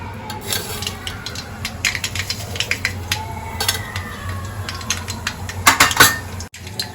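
Mustard seeds crackling in hot oil, tempered as the base for a tinda (Indian round gourd) curry; steady close sizzle with dense, irregular pops and light metallic clinks of a pan and utensil throughout.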